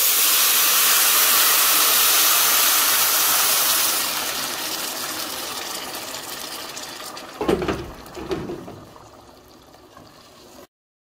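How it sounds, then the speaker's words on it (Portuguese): Water pours into a hot pot of frying rice and garlic, a loud steady hissing sizzle that softens after a few seconds, followed by a few close clanks of the pot near the end. "Agora nós vamos aqui acrescentar 800 ml de água e sal a gosto"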